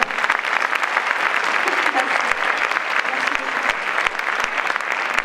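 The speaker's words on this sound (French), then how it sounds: "On peut applaudir le prix." An audience at the closing ceremony of the 8th La Roche-sur-Yon international film festival claps loudly and continuously for a prize, a thick, steady roar of hands filling the whole stretch.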